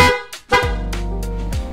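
A Honda Click 125 V3 scooter horn gives a short beep followed by a sustained, loud buzzy honk lasting about a second, close by.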